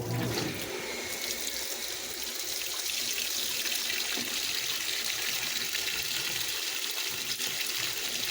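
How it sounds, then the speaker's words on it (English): Water gushes steadily into the tub of a heavy duty washing machine, a continuous, loud splashing rush close by with no voices. "This is a lot of times how I actually add water. I add it in stages until I see a level I like."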